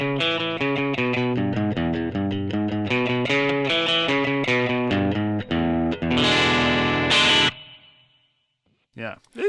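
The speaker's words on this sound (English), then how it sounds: "then we've got the spring, which emulates the spring reverb in an amp or a reverb tank." A distorted electric guitar plays a run of chords through the spring reverb setting of a Blackstar ID Core V3 amp modeller. A final ringing chord decays into a splashy reverb tail, followed by silence and a couple of faint knocks.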